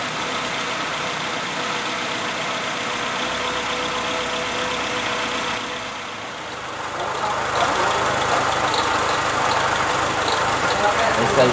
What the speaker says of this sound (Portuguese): Vou dar partida no carro aí pra vocês verem como ficou o barulho.